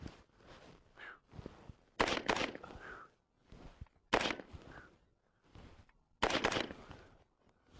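AR-15 rifle firing .223 rounds in a close-quarters drill, several sharp loud shots spaced a second or two apart, some in quick pairs, with quieter handling noise between.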